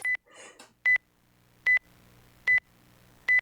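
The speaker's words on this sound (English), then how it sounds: "This beeping is really annoying, Tifa." Cell phone beeping in the video game Pacaplus: five short, sharp electronic tones at a regular pace with brief silences between them, and a faint murmur near the start.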